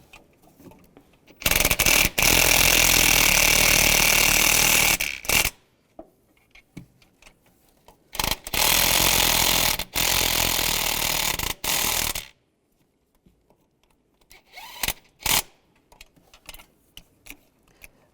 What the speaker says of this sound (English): Now I'm going to go back and snug these up using a 12mm socket.